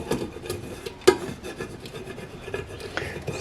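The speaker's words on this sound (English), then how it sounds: "I'm going to go over it with my scraper" A plastic scraper rubs transfer tape down onto vinyl on a tumbler, giving a steady close rasping scrape with one sharper knock near the start.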